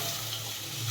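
Peanuts and boiled peas being stirred in a pan for mini samosa filling, giving a brief, steady sizzle with soft scraping, close and continuous with no talk.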